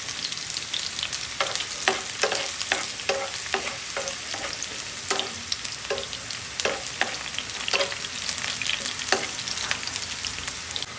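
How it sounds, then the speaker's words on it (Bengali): Onion and dried red chili fry in hot oil for a gourd-leaf stir-fry, a steady close sizzle broken by repeated sharp scraping stirs of a spatula against the pan, with no voices. "সেখানে পেঁয়াজ আর শুকনো মরিচ দিয়ে নিলাম।"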